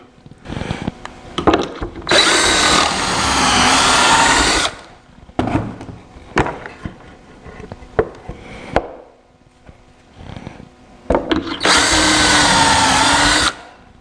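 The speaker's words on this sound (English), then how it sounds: "I need to drill a hole through this corner block" A power drill whines loudly in two long bursts, drilling a hole through a wooden corner block of a table, separated by shorter clicks, knocks and brief trigger pulls, with no talking.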